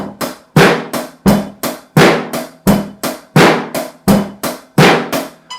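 Regular sharp percussive clicks of a metronome set near 85 bpm, each strike decaying quickly, with played eighth-note hits falling between them, close and loud with no talking.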